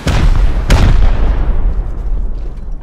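Rocket explosions in the video game Rust: two loud, close blasts in quick succession, the second sharper, followed by a long rumbling decay that gradually thins out, with no talk.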